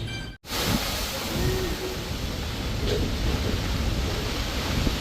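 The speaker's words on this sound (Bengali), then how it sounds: "প্রচণ্ড ঝড় হচ্ছে আর তার সঙ্গে বৃষ্টি হচ্ছে" A first pre-monsoon thunderstorm with heavy rain gives a dense, steady roar of rainfall close by, with a faint low rumble underneath throughout.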